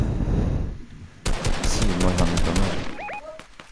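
Loud rapid automatic gunfire in a video game, shooting down at everyone from high ground, a dense rattling burst after a short lead-in, ending with a few ringing tones.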